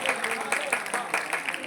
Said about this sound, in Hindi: प्यारे विद्यार्थियों, एक और जोरदार तालियों से हमारे अतिथियों का स्वागत करेंगे आप।